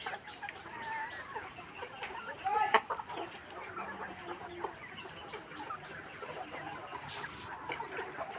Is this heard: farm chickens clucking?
yes